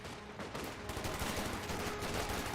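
Gunfire in the Company of Heroes 2 video game, with a loud, dense stretch of overlapping shots and battle noise running steadily through the whole stretch.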